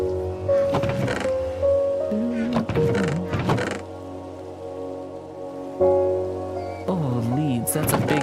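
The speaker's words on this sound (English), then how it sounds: "I hear an Enderman dying in the rain." Steady rain falls in Minecraft while warbling, wavering cries of a dying Enderman rise and fade in several bursts over the constant patter.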